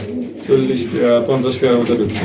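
Pigeons coo in a soft, throaty, repeated warble, several birds overlapping close by, with people talking over them.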